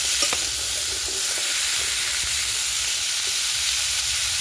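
Potatoes frying with turmeric in a hot pan give off a steady, close, bright sizzle and hiss, with a few faint stirring scrapes, and no voices.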